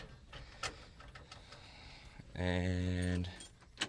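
A diesel-swapped 1967 Ford Highboy starting, keys jangling before the starter cranks in a short rattling burst, with a voice speaking briefly nearby.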